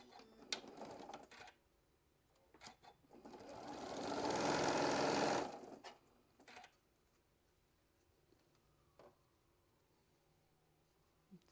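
A sewing machine sews quilt block seams in one smooth run of about two seconds, rising and falling, surrounded by quiet clicks and fabric handling.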